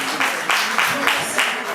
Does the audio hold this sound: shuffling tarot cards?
no